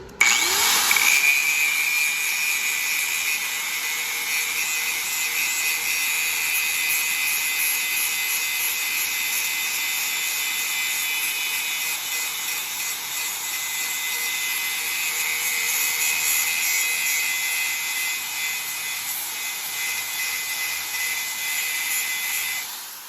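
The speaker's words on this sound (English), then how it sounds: "grind them wheels and grind that coating off, the undercoating off, just to see those spot wheels" Flap disc on an angle grinder strips undercoating from the wheel tub of a 1967-69 Camaro, a loud continuous high whine after a short spin-up, holding steady for over twenty seconds with no talking.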